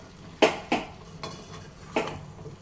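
Spoon stirring Andhra-style egg curry with drumstick and tomato in a metal pan, four separate clanks and scrapes of utensil against pan, unevenly spaced, close by over a quiet background.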